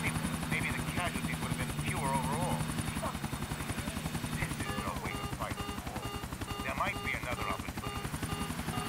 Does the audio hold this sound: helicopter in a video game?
yes